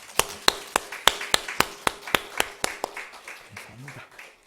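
A small church congregation at a Sunday service claps in welcome: a dozen or so sharp, evenly spaced claps that gradually fade, with a brief voice near the end.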